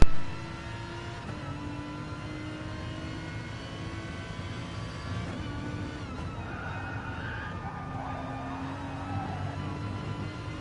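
An Aston Martin race car in an endurance racing video game, heard from the on-board view, its engine holding a steady loud drone with shifting pitch and a brief rise in revs near the end, with no talk over it.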